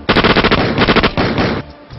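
Rapid bursts of automatic gunfire, loud and close, with repeated volleys of shots in quick succession before cutting off abruptly.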